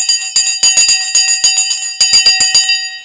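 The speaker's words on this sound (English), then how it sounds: "I missed the bell. The bell is sponsored by Sensei." A bell rings on a stock trading show, a loud, bright electric ring struck in rapid bursts of repeated strikes. It keeps ringing insistently for about three seconds, alone with no talk over it.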